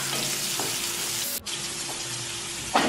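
Chopped onion and crushed garlic frying in a pan with cumin and asafoetida; a loud, continuous close sizzle with a brief dip partway through and a stirring scrape near the end, no voices.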